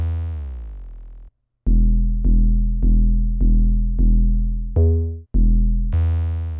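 Drum and 808 pattern from a goofy-style hip-hop beat: deep booming 808 bass notes repeat in a steady rhythm with drum hits, briefly drop out near the start, then continue loud and unbroken with no voices.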